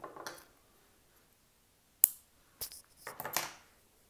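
Scissors snipping crochet yarn, a few sharp, faint close clicks and short rustles separated by brief silences in a quiet room.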